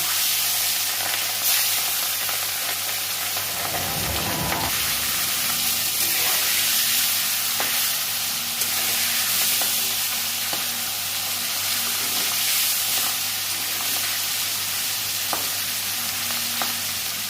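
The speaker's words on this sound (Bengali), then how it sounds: "মাছগুলো আমি ভেজে নেব।" Four pieces of kajli fish fry in a pan with a steady, loud, continuous sizzle and hiss that lasts throughout, with no voices.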